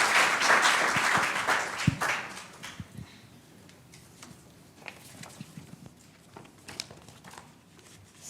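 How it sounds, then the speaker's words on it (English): A lecture audience applauds to welcome the director before a public talk on AI technology: a dense burst of clapping in the opening two seconds that thins into scattered claps and faint rustling. "Please welcome her with a round of applause."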